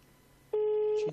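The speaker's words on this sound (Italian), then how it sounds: "Vediamo, tre squilli, quattro squilli." Telephone ringing tone on an unanswered call, a single clear electronic tone starting halfway through and holding steadily for about half a second at moderate, close volume.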